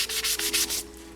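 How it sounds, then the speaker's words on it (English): Dry sanding of paint on a Yamaha FZ600 motorcycle part, about seven close, rhythmic rasping strokes in quick succession, then a brief quiet tail. "I'm sanding this dry now"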